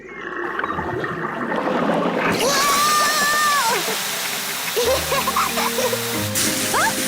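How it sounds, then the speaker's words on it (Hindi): Water sprays from a garden hose held by a cartoon pig in a Peppa Pig backyard scene, a steady hiss running for several seconds with sputtering, warbling tones and cartoon voices speaking over it. "पेपा ने पाइप पकड़ी और डैडी पिग ने पानी शुरू कर दिया।"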